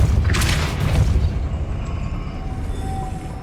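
A Depulso repelling spell is cast in the Hogwarts Legacy video game, opening with a loud, deep boom that fades into a whooshing, ringing tail over a few seconds.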